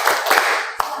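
Hands clap in a quick rhythmic pattern for the 'tepuk presiden' clapping game, a few crisp, close claps spaced unevenly within a second.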